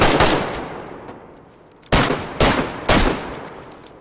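Gunfire in DayZ as players shoot through the wooden frame of a base during a raid: a long loud sustained burst, then three sharp separate shots, close and without talk.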